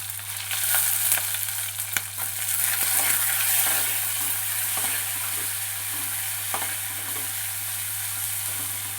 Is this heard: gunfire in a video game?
no